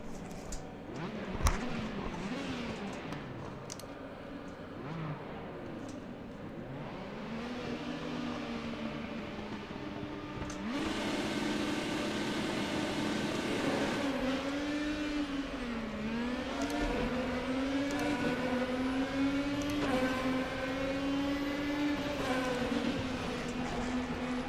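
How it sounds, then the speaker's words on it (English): IndyCar open-wheel racers at TT Circuit Assen in RaceRoom, a steady loud engine drone with rising and falling pitch sweeps as the car accelerates and shifts, continuous throughout. "Let's go race IndyCar at Assen."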